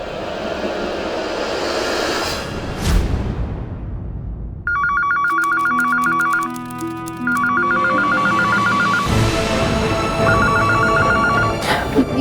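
A telephone rings in repeated electronic bursts, loud and close, over a busy background din that drops away while it rings.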